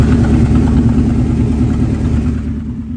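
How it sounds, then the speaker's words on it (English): A 1984 Mercedes 500SEC V8 with an exhaust leak idles steadily up close, giving a deep, continuous rumble that eases slightly toward the end. "It has an exhaust leak. That's obvious. That's what you're hearing down here."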